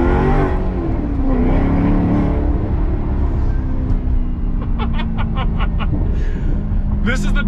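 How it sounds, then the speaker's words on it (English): A V8 race car engine in Gran Turismo Sport revs and accelerates loudly, its droning tone rising and shifting gears, while someone talks over it throughout. "This is the best sounding V8 they've ever made."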